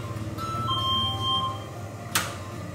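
A door-open sensor on a homemade wireless anti-theft alarm sounds a ding-dong chime: two clear ringing tones, moderately loud over a low steady hum, followed by a short sharp click.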